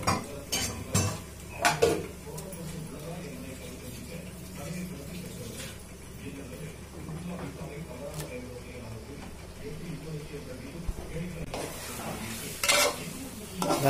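Chicken is added and stirred into a masala gravy for Tamil chicken kulambu, with a steady sizzle under spoon scrapes and pot clatter. Bursts of clatter open and close the stretch, and a voice talks intermittently.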